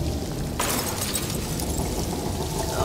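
Rushing water in the horror video game Alone in the Dark, a dense, continuous roar and splash that floods the scene loudly and without a break, with no one speaking over it.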